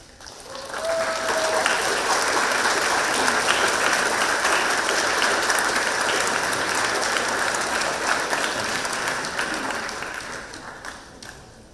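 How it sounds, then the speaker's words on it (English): A graduation ceremony crowd applauds teachers and families in a long, full round of clapping that swells, holds steady and slowly fades. "Please, graduates, stand and join me in giving a round of applause to your teachers and families."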